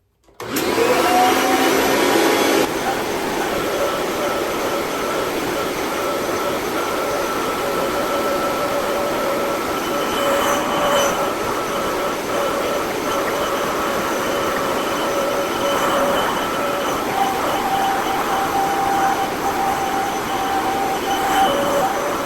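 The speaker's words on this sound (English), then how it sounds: "Now I'm gonna vacuum the pillows to my chair." A vacuum cleaner runs over sofa and chair pillows indoors during spring cleaning, starting with a louder surge and then holding a steady, close whooshing drone for about twenty seconds.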